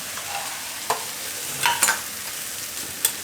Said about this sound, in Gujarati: ખાલી આ રીતે થોડીક વાર ફેરવી લઈએ એટલે આ ગરમા ગરમ જ હોય એટલે બેસન આમાં શેકાઈ જાય.